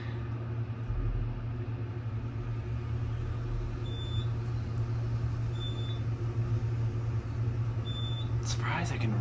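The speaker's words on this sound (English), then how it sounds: "Going down. They're really gutting the space here, so I think this elevator is used for a service elevator." A service elevator descending in Gordon Hall at Harvard Medical School in Boston gives a steady low motor hum and rumble throughout, with faint beeps and a brief clatter near the end.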